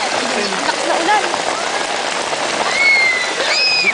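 Heavy rain pours in a steady, loud hiss of drops on surfaces throughout, with people talking over it and faint whistling tones near the end.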